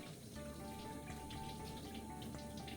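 Water running steadily from a sink tap during handwashing, a soft continuous splashing hiss at low level with no talk over it.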